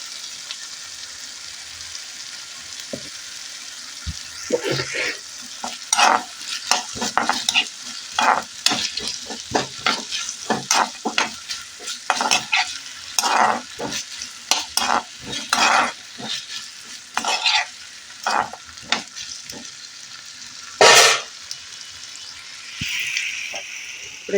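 Thinly cut potato pieces frying in oil are stirred in a pan, a soft sizzle broken by many irregular scraping and clattering strokes of the spatula, close and fairly loud throughout.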